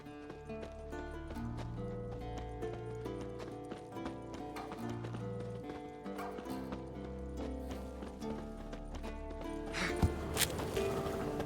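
Hooves of a purebred warhorse clip-clop at a steady walking pace in The Witcher 3, with clear rhythmic footfalls that are fairly close. An occasional snort or whinny sits over soft game music and ambience.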